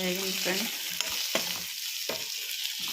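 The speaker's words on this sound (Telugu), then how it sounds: "చిన్న చిన్న సాంబార్ ఉల్లిపాయలు ఇవైతే వేగాలి" Small sambar onions fry in a pan with a constant close hiss, a few spoon scrapes and taps breaking through the sizzle.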